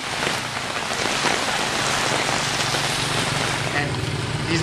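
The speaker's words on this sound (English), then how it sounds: "We're in Bagan, and it's raining." Steady rain pours down in Bagan, Myanmar, in a dense, continuous hiss, loud and close throughout, with no voices.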